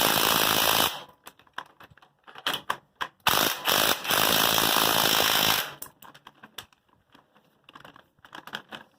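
A bolt on a Massey Ferguson corn planter is tightened with a ratchet, giving loud bursts of rapid clicking and grinding that alternate with quieter scattered clicks and metal knocks nearby.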